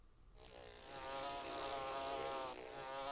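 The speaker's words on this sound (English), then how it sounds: "Does that have anything to do with the wasp flying around the room?" A wasp buzzes steadily around a room, its droning hum rising and holding close by for a few seconds without any voices.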